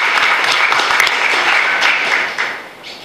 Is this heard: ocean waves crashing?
no